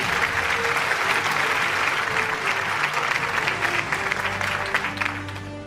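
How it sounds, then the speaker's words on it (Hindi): Sustained applause from an award-show audience in a hall, dense and steady throughout, thinning slightly toward the end, with a faint voice or music underneath. "आपकी भरपूर तालियों में"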